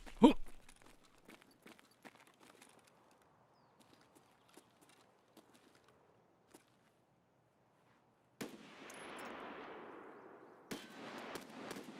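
Gunfire in Escape from Tarkov on the Customs map, heard as a burst of sharp cracks at the start, then scattered faint distant shots before louder noisy bursts near the end.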